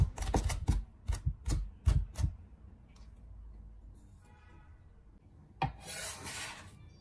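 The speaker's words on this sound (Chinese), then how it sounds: "全部拍扁后，再把它剁一下，" Flattened shallots chopped with a cleaver on a board, a quick run of sharp, close knife thuds at first, then quiet with light scraping and a brief rustle near the end.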